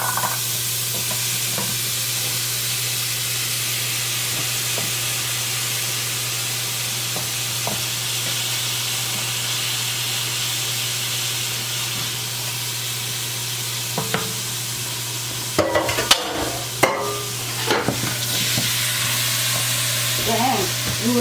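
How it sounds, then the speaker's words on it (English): Sautéed vegetables for fried spaghetti sizzle steadily in a big pot for a long stretch, with a few sharp scraping and clattering stir strokes near the end, loud and close. "Everything has been sauteing in this frying pan. I'm going to pour it in this place,"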